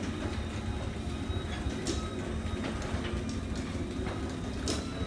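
A 1.25 horsepower Chamberlain belt-driven DC garage door opener runs in a garage, giving a steady, fairly quiet motor hum and rumble with faint clicks and rattles from the moving door, heard close and continuous.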